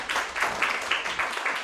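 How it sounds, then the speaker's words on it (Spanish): A small audience at an academic event on sustainability education gives a short burst of applause, with rhythmic claps sounding moderately near and no voices over them. "Un aplauso, por favor."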